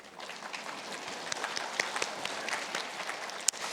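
A congregation claps during a church sermon, a steady, dense patter of applause at moderate distance that holds evenly throughout, with a couple of sharper individual claps standing out.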